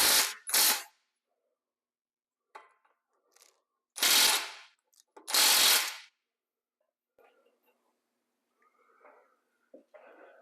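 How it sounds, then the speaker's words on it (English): Ratchet with a 22 mm socket loosening control arm nuts on a 2012 Mercedes S550, delivering several loud, rapid clicking bursts separated by pauses, interspersed with faint clinks and handling noises. "So that was a 21 millimeter socket, and these are 22s. So I'm going to get these loose."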